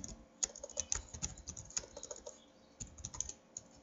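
Someone types on a computer keyboard, a quiet, close run of irregular clicks and taps with a short pause partway through and no speech.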